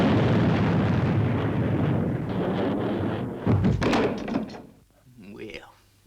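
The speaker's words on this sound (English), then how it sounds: "Firing main boosters." Spaceship main boosters fire as a sound effect, a heavy, loud roaring blast that swells, then breaks into a few thudding bursts and fades out.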